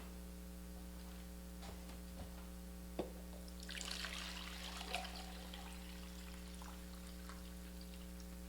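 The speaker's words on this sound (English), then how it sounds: "when I add the water to it" Water pours briefly into a dumpling mixture for dissolving, a short soft splash over a constant electrical hum, with a few faint clicks and drips around it.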